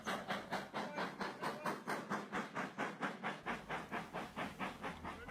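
The steam locomotive Lydham Manor on the Paignton and Dartmouth heritage railway chuffs in a steady, rapid rhythm, each exhaust beat a loud hissing puff, continuing evenly throughout.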